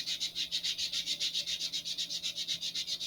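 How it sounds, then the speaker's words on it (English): A sanding block is rubbed rapidly back and forth over a model rocket fin, giving a steady, even rasping rhythm of about seven strokes per second, close and clear with no voices. "remaining ones, you can do with the sanding block"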